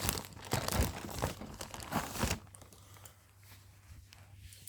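Cardboard packaging crinkles and crunches as it is handled, giving a burst of loud, close rustles and tearing-like scrapes for about two seconds, then fading to quiet shuffling over a low steady hum.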